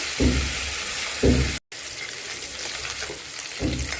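Cauliflower and potato pieces fry in hot oil with an even, close sizzle, broken by several louder low bursts of noise from nearby work, and one brief dropout.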